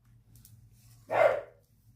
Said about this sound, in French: Ça aboie, ça aboie.